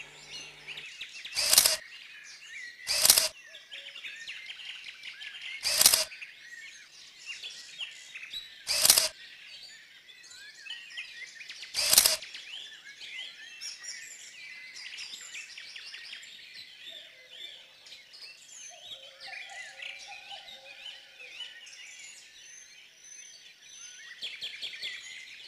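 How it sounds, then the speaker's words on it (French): Small birds chirp and twitter steadily through a quiet garden, with several sharp, loud clicking bursts spaced a few seconds apart early on and a softer warbling call near the end. "C'est dans son jardin que viennent se restaurer beaucoup d'oiseaux"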